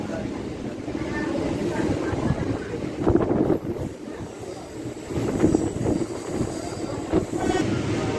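An MMTS local train in Hyderabad runs along with a steady rolling rumble, wind buffeting the microphone and rhythmic clattering bursts of wheels over joints, with faint voices at times.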